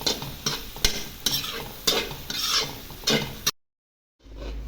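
Puffed rice (borugulu) tossed in a frying pan with tempering, a series of rhythmic scraping, rustling stirs with spatula knocks, close and loud, then a brief silence before a soft return.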